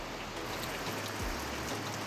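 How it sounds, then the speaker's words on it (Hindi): Heavy rain pours off a village house roof in Himachal Pradesh before dawn, making a steady, dense hiss of water dripping and splashing with no break. "बारिश बिल्कुल छत से बहुत ज़्यादा टपक रही है"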